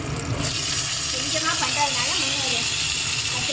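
Eggplant tipped into hot oil with softened onions, green chili, dried red chilies and curry leaves for a Tamil kara kuzhambu, giving a steady close hiss and sizzle that runs throughout the clip.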